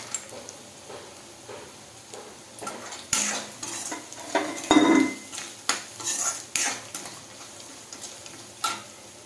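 Peanuts and potatoes being stirred in a pan for kanda poha: a spatula scrapes and clinks against the metal in irregular close strokes, with a faint sizzle beneath.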